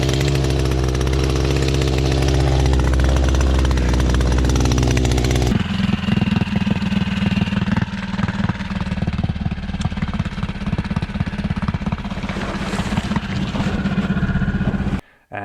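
Seahorse 3.5HP two-stroke outboard motor running loud and close, a constant buzzing drone that shifts in tone partway through and continues steadily, with rattly vibration, before cutting off abruptly at the end.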